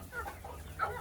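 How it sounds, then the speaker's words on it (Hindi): Australorp hens and a rooster on a farm in Pakistan give two soft, brief clucks, faint against quiet background noise. "ये भी मुर्गा है जी।"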